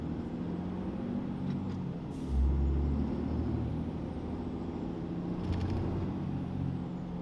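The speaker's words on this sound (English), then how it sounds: "You hear her spooling up a little bit." Deleted Cummins 6.7 diesel truck idling and revving with the turbo spooling up, a steady low engine rumble with a brief surge and faint high whistles, heard from close by.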